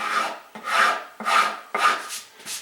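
Wood veneer is sanded by hand with medium-fine sandpaper, five long rasping strokes in a steady back-and-forth rhythm, close and clear with short pauses between passes and no talk.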